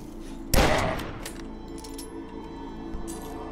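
A single sharp gunshot from a weapon firing at cultists in the shooter game DUSK, loud and close, with a decaying tail over a steady game background hum and a faint second pop near the end.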